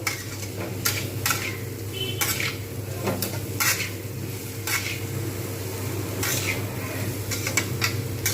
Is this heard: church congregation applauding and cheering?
no